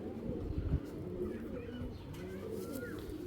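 Racing pigeons coo in soft, low, throaty murmurs, several birds overlapping close by against a continuous background rumble.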